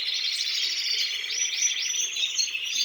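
Several recessive albino canaries sing nearby, with bright, continuous warbling and rapid trills that rise and fall without pause, loud and unaccompanied by voices.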